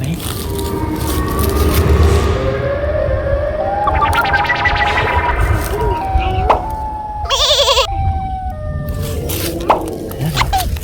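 The siren of the Siren Head creature in a video game: a long, warbling wail rises and falls over a rumbling, noisy background, with a loud, pulsing burst midway.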